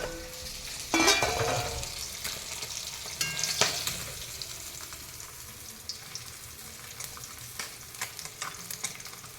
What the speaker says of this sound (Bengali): এখন কিন্তু মাছ ভাজছে বুঝতে পেরেছ